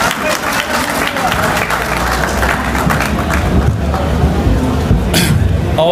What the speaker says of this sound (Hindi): रमजान नवीद साहब भाई, भरपूर भरपूर तालियां बजाएं भाई